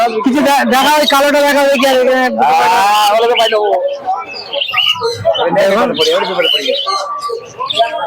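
Bird calls at a busy Krishnanagar pigeon market in Nadia, where pigeons are sold, heard under near-constant loud chatter and voices of people talking throughout.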